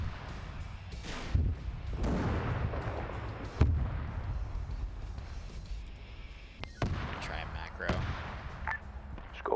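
Booming in-game gunfire from a military vehicle engagement in a winter setting, with a couple of sharp, louder bursts among rumbling battle noise and sporadic talk over it.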